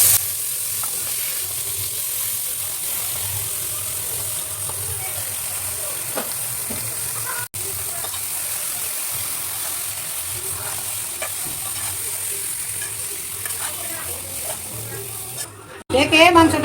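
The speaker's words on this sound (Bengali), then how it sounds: "মশলা ভাজা হয়ে গেছে, এখন মাংসগুলো দিয়ে দিচ্ছি।" Duck meat frying in oil spiced with cinnamon, cardamom and cloves in a pan, a steady close sizzle with stirring scrapes throughout, ending in a louder burst.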